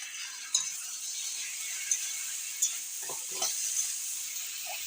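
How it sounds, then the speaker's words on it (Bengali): Shrimp stirred into a pan of frying figs in spiced curry, a soft steady sizzle under sharp clinks and scrapes of a spoon against the pan, close by and without talking. "এবারে দিয়ে দেবো চিংড়িটা"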